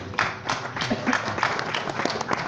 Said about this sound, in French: On peut l'applaudir, bravo Patrick.